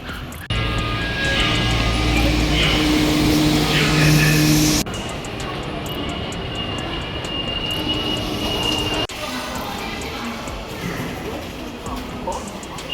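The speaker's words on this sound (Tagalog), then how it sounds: "tapos sasakay na ako ng tren." Train in Japan heard from on board or beside it, a loud steady mechanical rumble with a sudden drop in level partway, then quieter continuous running noise with faint voices.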